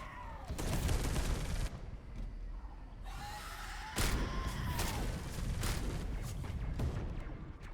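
A turret fires in the video game Space Hulk Deathwing, with several loud rapid bursts of gunfire and booming blasts separated by short pauses, all fairly close and punchy.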